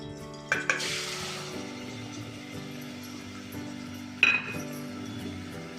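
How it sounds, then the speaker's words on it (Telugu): Cut onions go into hot oil with cumin seeds, a couple of clinks of utensil against pan, then a steady soft sizzle of frying runs underneath, with another sharp clink near the end. "ఆయిల్ వేడెక్కిపోయిందండి. ఇప్పుడు ఉల్లిగడ్డలు వేసుకుందాము"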